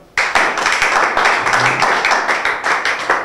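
An audience at a rap battle breaks into applause, dense loud clapping starting sharply and holding steady to the end, close and energetic.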